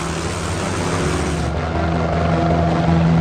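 A loud, steady whir and throb of spinning helicopter rotor blades, close and continuous with no pauses.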